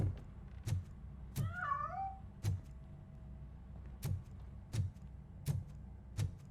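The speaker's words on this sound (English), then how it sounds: "That cat must be hiding inside." A cat in the video game RoboCop: Rogue City gives one short wavering meow, set against sharp regular thumps that repeat about every second, fairly faint overall.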